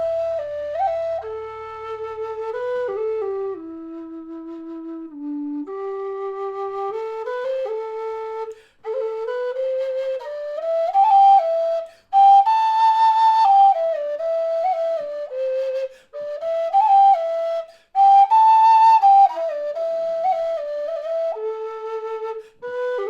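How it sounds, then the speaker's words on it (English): A Lear low D tin whistle plays the folk air If I Was a Blackbird solo: clear, breathy sustained notes in a flowing melody, broken by short pauses for breath. "Now, I'll now play through If I Was a Blackbird on the lyre."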